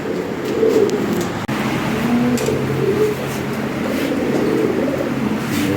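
Lahori Sirazi pigeons cooing in soft repeated low calls at a pigeon sale, set against a steady background hum of traffic, with a single sharp click partway through.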